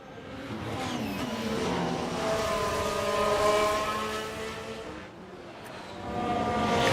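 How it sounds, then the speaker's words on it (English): A Ferrari Formula 1 car in the F1 Manager 24 racing game screams past with a high, rising and falling engine whine, loud and close, then a second surge of engine noise builds near the end. "Comes the Ferrari, you can hear it."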